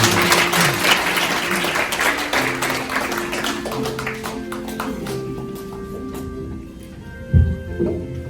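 Applause welcoming a speaker at the 50th anniversary ceremony of the Syngman Rhee founding president memorial association, a dense patter of many hands that gradually thins and fades, with a few louder claps near the end.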